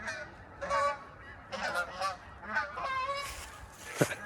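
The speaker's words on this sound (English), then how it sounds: "Here's some more geese." Geese honking in repeated bursts, several calls overlapping at moderate distance, with a sharp louder honk near the end.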